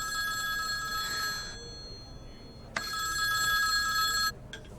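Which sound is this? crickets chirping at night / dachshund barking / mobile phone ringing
mobile phone ringing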